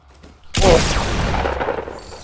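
Gunfire in the Fortnite battle royale video game: a loud sudden burst of shots that rings on as a dense, sustained barrage before fading slightly.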